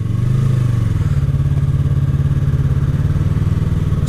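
A 300cc motorcycle engine drones steadily and loudly close by while riding, a low continuous rumble with a brief rise in pitch early on, no voices.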